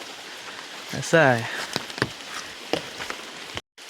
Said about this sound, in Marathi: त्यामध्ये पाऊस आला